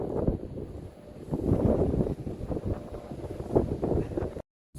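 Strong wind buffets the microphone on the open deck of the Virgin Voyages cruise ship Scarlet Lady on a cloudy, rainy day, a steady rough roar with gusts swelling and easing, close and loud, cutting out at the end.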